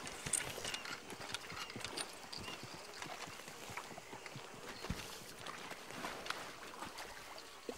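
Horse hooves clip-clopping in Red Dead Redemption 2 near a river, a soft, continuous patter of steps under a hissy ambient wash, fairly faint and with no talk.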